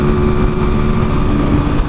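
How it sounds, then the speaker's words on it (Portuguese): A 300cc motorcycle engine revved hard, a loud steady drone with a sustained rough low rumble throughout, no talking. "Tô acelerando demais pra você ver só."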